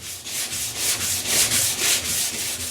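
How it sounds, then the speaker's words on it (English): Steady, rhythmic sanding of a kayak with 120 then 180 grit sandpaper, a raspy scratching that rises and falls in regular back-and-forth passes, close and fairly loud with no voices. "remove scratches with an 180 grit paper."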